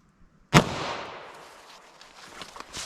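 A single sharp 9mm gunshot, a Hornady Custom 147 gr XTP round fired into denim and clear ballistics gel, cracks loud and close, then decays into a short ringing echo and faint clatter.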